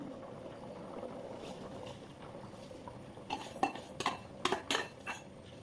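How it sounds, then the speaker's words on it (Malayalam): Rice goes into a simmering pot of biryani water, with a few sharp metallic clinks and scrapes of a utensil against the pot in the second half over a quiet, low background. "അപ്പോൾ നമ്മൾ റൈസ് ചേർത്തിട്ടുണ്ട്."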